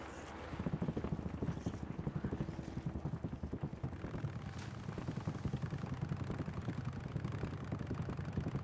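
A motorcycle engine in the video game Days Gone drones steadily with a buzzing, rattling tone, continuous and moderately loud, with a windy hiss layered over it.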